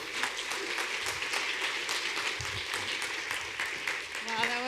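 An audience at a 2014 MEX talks event gives sustained applause, a steady wash of many hands clapping throughout, with a voice speaking over it.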